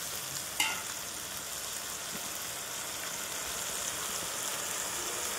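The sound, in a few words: frying and stirring masala with tomato for Bengali fish curry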